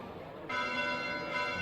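Church bells ring at night in the video game Fire Emblem: Three Houses, a sustained resonant peal that swells louder after a short moment and keeps ringing on with its overtones.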